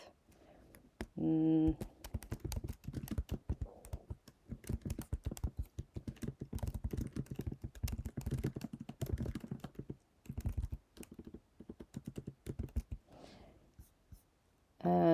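Rapid, steady typing on a computer keyboard while entering a table title in a document, with dense close key clicks and brief pauses, followed by a short burst of speech.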